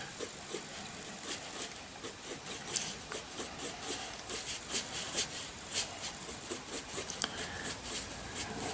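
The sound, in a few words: blending brush and pencil on paper while drawing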